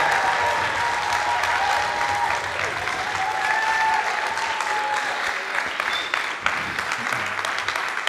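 A church crowd at a sermon breaks into loud, continuous applause with scattered cheers and whoops. Voices shout over the dense clapping throughout.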